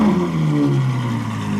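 A Ferrari F12 Berlinetta V12 engine revs high, wailing steadily with a sharp, screaming tone, close and loud, with no talking.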